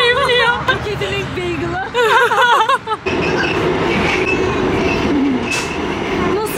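New York subway train: a steady loud rumble of the car rolling along the tracks, with screeching wheel and brake squeals early on, heard from inside under nearby talk.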